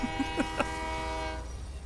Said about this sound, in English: let's test out the new train collisions